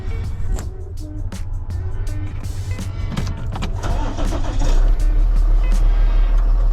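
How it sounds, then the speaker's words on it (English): A car engine with a newly fitted starter cranks and catches. It settles into a close idle that grows louder near the end, with clicks and rattles around it and no speech. "I'm gonna start it up, let y'all see. All right, so let's start it up"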